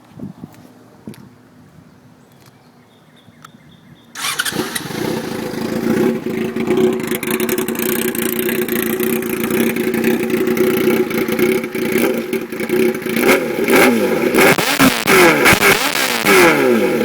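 A Yamaha YZF R6 with a baffle-less M4 GP straight-pipe exhaust starts after a quiet lead-in, then idles loudly and close with a rough, raspy note and repeated sharp revs toward the end.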